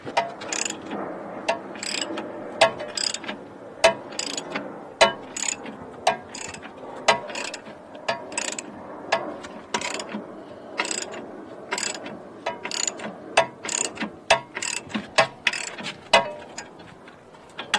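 A ratchet wrench works bolts loose on the front shock assembly of a Porsche 928S, sounding as rapid, close clicking bursts repeated in a steady back-and-forth rhythm throughout, with no talking.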